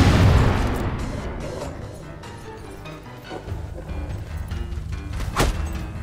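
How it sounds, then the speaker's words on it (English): Enemy gunfire in the fantasy game Fable 3, heavy booming shots and blasts amid a dense, noisy battle din, with one sharp crack standing out near the end. "The scumbag's shooting at us"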